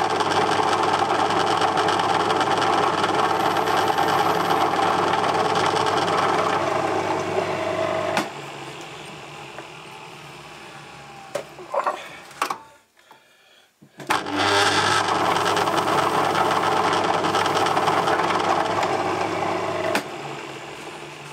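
A small lathe cuts a chamfer on a thin rod threaded 10 mm, a part for a Stuart 10V steam engine model. The motor hums steadily, quietens midway, pauses briefly, then resumes at full level.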